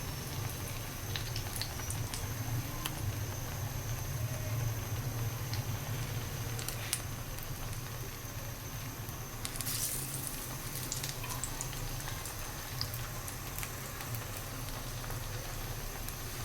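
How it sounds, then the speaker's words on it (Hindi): Battered eggplant pakoras fry in hot oil, making a steady, close, moderately quiet sizzle and bubbling hiss that runs on without pause. "पहले हम बैंगन के बनाएंगे, फ्राई करेंगे पकौड़े।"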